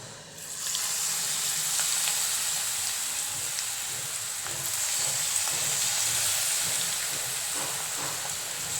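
Cauliflower pieces fry in hot oil, giving a continuous close, even hiss and crackle that swells at the start and holds steady throughout without speech.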